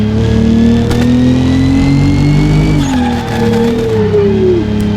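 Modified MK3 Jetta engine in BeamNG, revving hard and loud: pitch climbs steadily, dips briefly at a shift, then climbs again toward high RPM. It plays alone, with no talking.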